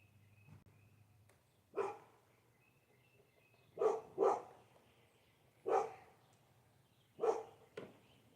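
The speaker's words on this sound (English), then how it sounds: "What are you barking at, Shay?" A female dog barks five times at uneven intervals, one pair in quick succession, fairly close against a quiet background with a faint low hum.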